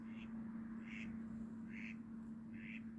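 A duck flying over a half-frozen lake quacks four times in a regular rhythm, faint and distant over a constant low hum.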